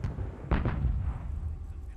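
Artillery in the Company of Heroes video game lands as one heavy, deep boom with a brief rumbling tail, moderately close, over a low battlefield drone.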